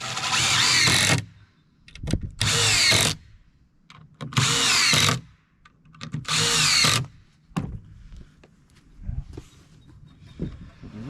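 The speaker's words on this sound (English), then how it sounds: "go ahead and put your screws in it" Power drill driving screws into the wooden boards of a 4x8 raised garden bed, four loud bursts of whirring a couple of seconds apart, each ending abruptly, with quieter handling clatter in between.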